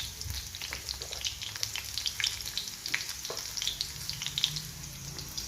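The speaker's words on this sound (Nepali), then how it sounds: "अब यसमा म मेथी हालिदिन्छु" Fenugreek seeds sizzle and crackle in hot oil in a home kitchen pan, a close, steady frying hiss with scattered pops and spits and no talking.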